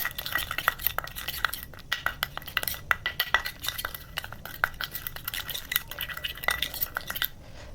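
A face pack stirred with rose water in a bowl, the spoon giving quiet repeated clinks and scrapes against the sides in an uneven rhythm, close by and alone.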